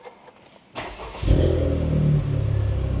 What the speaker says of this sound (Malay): so start kereta tekan clutch start kereta